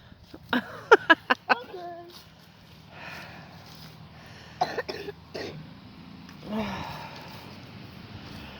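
A child with a cold coughs in a quick burst of several hacking coughs near the start, then a few more scattered coughs and a throat clearing, with quiet background and some talk.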